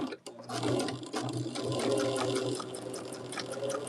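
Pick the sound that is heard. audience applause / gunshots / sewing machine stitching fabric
sewing machine stitching fabric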